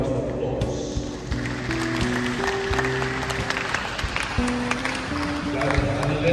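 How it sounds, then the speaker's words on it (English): A wedding congregation in a church applauds a newly married couple, a steady wash of many hands clapping at moderate distance over sustained organ or keyboard chords, lasting several seconds. "let us give them a round of applause"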